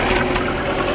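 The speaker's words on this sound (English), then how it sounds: "Here comes an old Minneapolis Moline tractor." An old Minneapolis Moline tractor passes at a steam show, its engine giving a brief, steady mid-low rumble at moderate distance with no voices.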